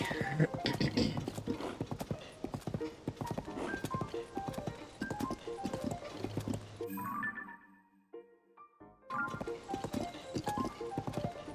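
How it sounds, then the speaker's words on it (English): Rapid clip-clopping horse hooves beat steadily over the soundtrack of The Legend of Zelda: Tears of the Kingdom, briefly dropping out near the end before the galloping resumes. "I have to go and tame the giant horse"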